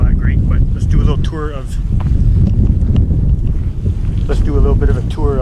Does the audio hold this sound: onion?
no